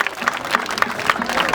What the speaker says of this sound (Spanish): regálame un aplauso bien fuerte